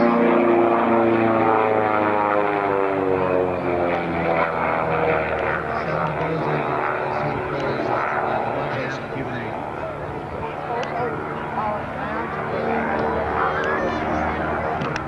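A propeller airplane flies at the 1995 Fairchild Air Force Base Homecoming Air Show, its steady, loud engine drone filling the whole stretch while an announcer talks over it.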